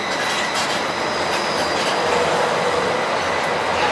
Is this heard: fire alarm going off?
no